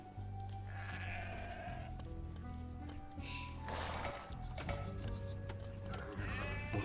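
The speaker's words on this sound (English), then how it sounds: "Tons of sheep scattered around the map, it seems." Sheep bleating in the strategy game Age of Empires II, several drawn-out bleats over a steady, dense game soundtrack and ambience, moderately loud and without speech.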